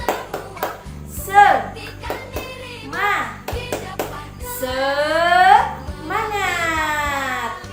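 Children's rhythmic clapping chant, tepuk semangat, in a primary school lesson: patterned claps in counted groups under a teacher's and kids' sung, rising voices, lively and close.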